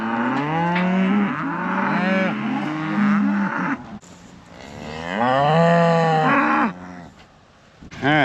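Weaning calves moo loudly and repeatedly as they are let through a gate into a small pasture, several overlapping calls carrying on with only brief pauses between them.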